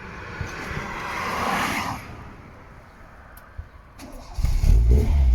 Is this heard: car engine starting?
yes